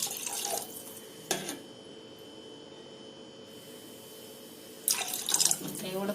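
Water poured into a spiced masala for bitter gourd curry, heard as a brief splashing pour near the start and a longer one near the end, with a quiet hum in between.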